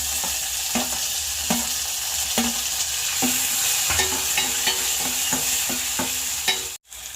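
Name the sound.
garlic, curry leaves, dried chillies and tomato sizzling in a pan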